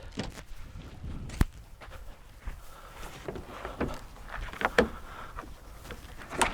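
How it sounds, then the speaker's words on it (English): A LEER HF350M hard folding truck bed cover swung shut and latching, with scattered soft thumps and a couple of sharp clicks and clunks close by. "The cover latches automatically as I close it."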